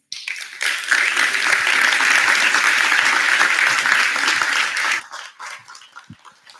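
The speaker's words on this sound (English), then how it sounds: "a round of applause for Amity" Applause from a conference audience after a workshop talk. Loud, full clapping swells and holds for about five seconds, then stops abruptly, leaving a few stray claps and room noise.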